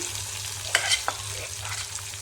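Cooked chickpeas being mashed and sautéed in ghee in a pan for kadala pradhaman, with a low steady sizzle and a few sharp scraping stirs of the spoon, close up with no talking.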